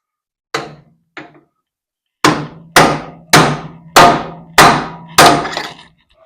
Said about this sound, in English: when you start hammering it on, this is tapered